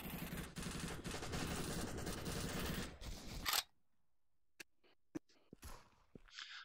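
A .50 caliber gun fires in a rapid, heavy burst for several seconds in the VR shooter Bullets and More, then stops abruptly, followed by a few faint isolated clicks and knocks.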